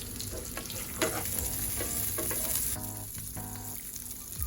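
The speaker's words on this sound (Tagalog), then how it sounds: "Put some hot oil on the top of the salmon fillet, just like this, just to cook quickly the top side." Salmon fillet hissing and crackling loudly as hot oil is poured over its top, a steady bright sizzle with bursts of spattering throughout.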